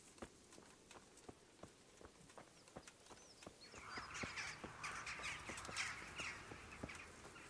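Crows caw in the video game Kingdom Come: Deliverance, a scatter of harsh calls from about midway on over a steady run of clip-clopping horse hooves throughout.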